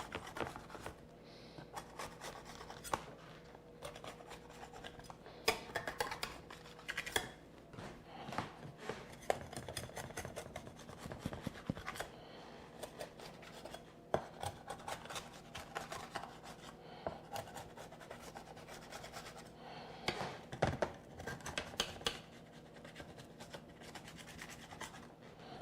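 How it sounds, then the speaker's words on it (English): A utensil scrapes and rubs against a metal baking pan as warm chocolate chip cookies are loosened, quiet and intermittent with small clicks along the way. "just loosen them here on the pan"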